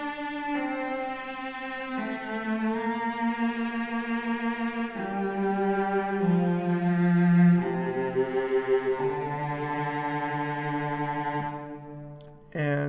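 A Spitfire solo cello virtual instrument on its default settings plays a slow, sustained melodic line alone, with smooth bowed notes moving between pitches and a brief pause near the end.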